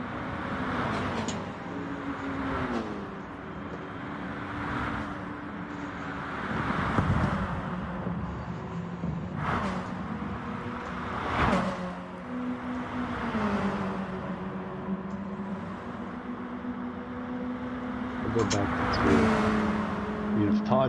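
A race car engine screams near redline during a sim-racing series round, a continuous loud high-pitched whine with repeated gear-shift dips and climbs, heard from the cockpit.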